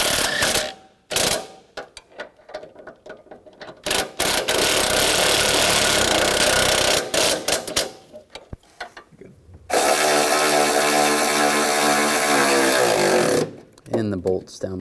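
Transmission mount bolts being snugged on a 2011-2019 Ford Explorer give close, loud bursts of ratchet clicking and metallic tool work, with long continuous mechanical stretches broken by short pauses.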